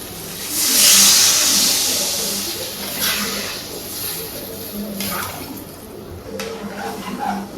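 Water hits a hot cooking pan with a loud hissing rush that peaks early, then settles into a softer steamy sizzle, with faint bubbling and a few quieter bursts near the end.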